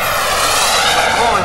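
An F-18 fighter jet flying at an air show, a loud, continuous engine roar with a slowly shifting tonal whine, heard close and filling the whole moment.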